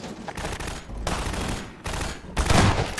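Gun firing in the Half-Life 2: Episode One video game, loud dense bursts of rapid shots in several blasts over a few seconds, with heavy rumbling combat noise between them.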